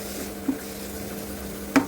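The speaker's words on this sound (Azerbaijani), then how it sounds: "Çoğundurum çox hissəsini əlavə edərək burada yağda qovururam." Beetroot frying in butter in a pan, a quiet steady sizzle with a low hum underneath and two brief louder stirring scrapes.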